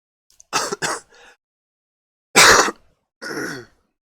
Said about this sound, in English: you will hear some coughs and sniffles